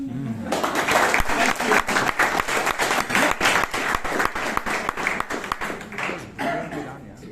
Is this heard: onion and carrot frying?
no